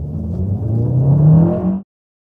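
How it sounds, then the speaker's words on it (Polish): A 2022 Kia Cee'd GT engine revs hard and steady for nearly two seconds, pitch climbing under full throttle, then cuts off abruptly into silence. "Trzyma się Rafał i gaz podłoga."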